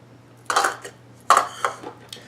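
Dry ingredients, baking powder and sugar among them, are stirred together in a bowl, giving two sharp clinking strokes followed by softer scrapes and taps over a low steady hum.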